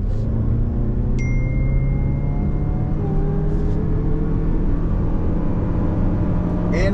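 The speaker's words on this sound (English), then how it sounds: "Now you did hear some engine noise, of course." A 2024 Toyota RAV4 XSE engine accelerating from 0 to 60 mph, a steady, moderately loud drone with rising tones that hums continuously under the cabin, with no talk.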